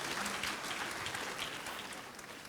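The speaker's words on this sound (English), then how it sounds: "Shall we clap hands beautifully for Jesus Christ?" A church audience claps hands together in praise of Jesus Christ, a dense, steady patter of applause that is fairly faint and tapers off slightly.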